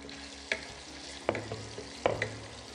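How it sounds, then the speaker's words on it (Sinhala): Chicken strips frying in oil with fish strips added to the pan, a soft steady sizzle broken by three sharp clacks of a utensil against the pan, fairly faint. "චිකන් ටික මේ විදිහට ලාවට රන්වන් පාටට බැදීගෙන එද්දී අපි ඒක තෙල් එකේ අයිනකට කරලා අපේ මාළු ටික මේකට එකතු කරගමු."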